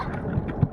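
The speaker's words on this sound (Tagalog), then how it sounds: "Malakas pa yung hangin." Steady strong wind roaring and buffeting across the microphone outdoors by rough sea, with low rumbling gusts and faint water movement, no voices.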